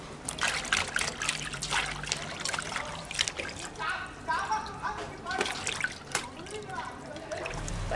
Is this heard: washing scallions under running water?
yes